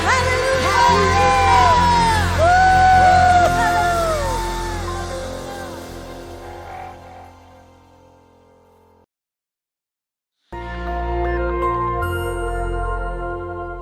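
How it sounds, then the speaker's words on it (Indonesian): A church congregation cheers and shouts hallelujah during a Pentecostal Sunday service, a loud crowd roar with whoops that fades out, goes silent, then returns as a steady crowd. "Sorakan haleluya."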